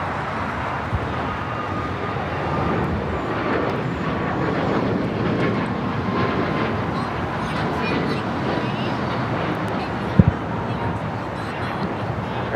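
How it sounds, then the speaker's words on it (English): An Aeromexico Boeing 737 MAX 8 takes off from LAX, a steady, broad jet roar sustained throughout at moderate distance, with a brief sharp knock near the end. "That's Aero Mexico 645 taking off to Mexico City on a MAX 8"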